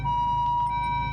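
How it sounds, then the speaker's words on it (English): An ambulance in the racing game Gran Turismo 7 sounds its siren, a steady electronic tone holding over low engine rumble, close and continuous for the whole short stretch with no talk. "This dude pulled up in an ambulance."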